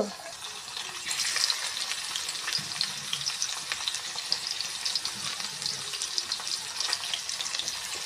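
Chopped onion fries in a pan with a continuous bright sizzle and some stirring, close and fairly loud, with a faint watery background and no speech.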